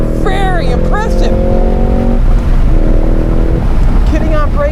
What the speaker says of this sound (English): Getting on brakes late, downshifting, the car will rev for you.